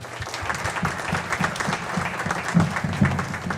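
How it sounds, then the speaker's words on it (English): An audience at a mayor's community night event gives a round of applause, steady clapping with a couple of louder bursts near the end. "Can you please give her a big round of applause?"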